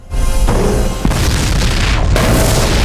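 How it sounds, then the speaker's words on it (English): A loud, close explosion in the New Captain Scarlet episode Heist, a heavy booming blast with a sharp onset that rumbles on, followed by further crashing bursts. "racing away from the explosion"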